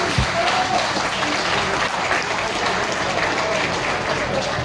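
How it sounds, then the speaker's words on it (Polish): Loud, sustained applause from a large crowd at an off-road event, steady clapping filling the whole stretch with some voices mixed in. "wielkie brawa i ukłony."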